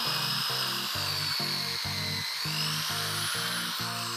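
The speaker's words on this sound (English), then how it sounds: "Make sure you get it drilled as far down as it will go." Electric drill boring into wood for a DIY wooden Christmas tree, a motor whine in repeated short pulses, about nine bursts with brief gaps, close and steady.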